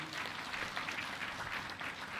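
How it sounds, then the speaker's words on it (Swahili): An audience at an official handover ceremony for a report on the Ngorongoro land dispute claps steadily for a couple of seconds, dense and moderately distant, with no voices over it. "makofi mengi"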